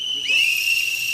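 A shrill whistle blast from protesting traders at a sit-in rises and holds steady, piercing and close, lasting about a second.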